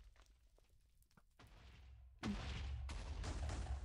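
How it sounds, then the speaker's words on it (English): Explosions in a Roblox video game burst in suddenly and loudly after quieter game noise, then keep rumbling as a dense, sustained wall of booms and blasts. "Oh my god, all the explosions."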